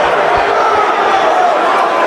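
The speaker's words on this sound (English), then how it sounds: "here he is getting booed at one of his fighting events" A dense, loud crowd at a Jake Paul fighting event in New York roars steadily throughout, a broad wash of many voices suggesting booing with no single speaker standing out.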